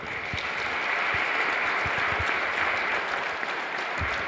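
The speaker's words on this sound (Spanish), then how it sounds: "Para ellos un fuerte aplauso." A church congregation at Mass gives steady, dense applause that fills the room evenly for several seconds, with no voices over it.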